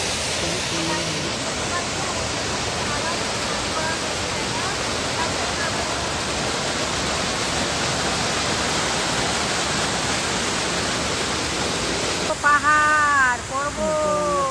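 Water flowing below among the hills of Teen Dhaiya as a steady, full rushing wash that continues unbroken and fairly loud, with brief voices and a whistle-like sound breaking in at the end.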